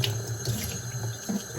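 Tap water runs steadily into a sink while a Brita filtering water bottle is rinsed, a close continuous splashing flow with slight changes as the stream hits the bottle.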